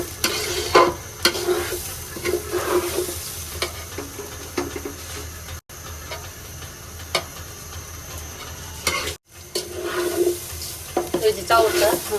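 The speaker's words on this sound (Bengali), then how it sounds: "এখন চাউলটা ভালোভাবে ভেজে নেব চাউল ভাজা দিলেই কিন্তু পোলাও সুন্দর হয়" Soaked rice fries in oil in a pot for mutton biryani, a close steady sizzle broken by repeated scraping stirs and a couple of brief cuts, with no talk.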